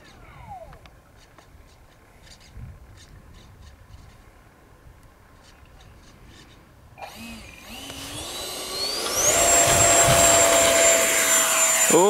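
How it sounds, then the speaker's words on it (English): FMS Dassault Rafale 64mm electric ducted-fan RC jet on a 4S setup, its fan spooling up from a low background hum into a loud, rising high-pitched whine that holds steady at full throttle as the jet takes off. "The maiden flight with the FMS Rafale"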